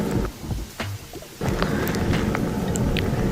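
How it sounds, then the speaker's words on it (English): Thunderstorm with rain falling steadily: a sharp crack and rolling thunder rumble early on, followed by continuous rain patter and scattered drops, fairly loud and close. "There's a thunderstorm."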